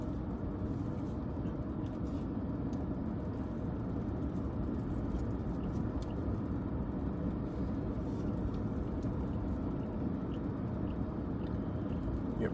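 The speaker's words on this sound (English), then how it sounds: "Yep, yeah, got some cars." Steady passing car traffic on a road near a haunted bridge, a continuous low rumble of vehicles driving by at moderate distance with no clear individual passes standing out.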